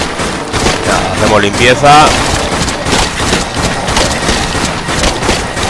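Rapid gunfire from the zombie-shooting video game Dead Nation crackles in dense, repeated bursts across the whole stretch, while someone talks over the shooting.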